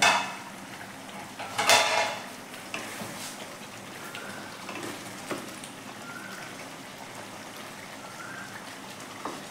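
A metal pot lid clanks sharply as it is lifted off a pot of simmering chicken for Awadhi murgh masala, followed by soft bubbling and faint scattered utensil clicks at close range.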